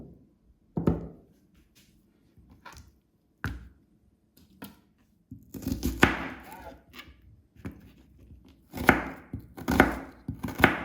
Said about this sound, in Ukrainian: Спочатку я поріжу ось цю цибульку. Поріжу напівкільцями.